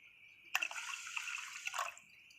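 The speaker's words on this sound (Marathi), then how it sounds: "अजून ह्याच्यामध्ये आपण थोडंसं पाणी घालून घेऊया" Water poured into measured rice for a vegetable pulao, a steady close splashing pour lasting under two seconds, then it stops.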